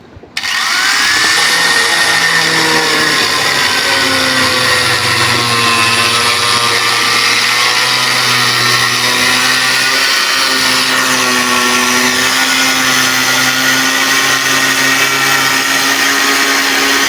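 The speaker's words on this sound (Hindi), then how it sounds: "तो इधर से ग्राइंडर चला देता हूँ" An electric grinder runs continuously at a steady, loud motor whine with a sustained buzzing drone, staying nearly unchanged for well over fifteen seconds after a brief start.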